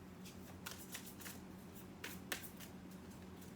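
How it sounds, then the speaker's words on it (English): A Revelations Tarot deck being shuffled by hand, soft papery riffles and slaps in quick bursts, close and fairly quiet, with no talking. "So let me get you a few more shuffles in the Revelations Tarot."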